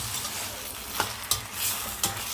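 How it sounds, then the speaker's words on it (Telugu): Dried fish curry stirred in a pan, with a spoon scraping and clicking against the metal in three or four distinct strokes over a soft, steady sizzle, close and moderately loud with no voices. "మొత్తం కలుపుకుందాం"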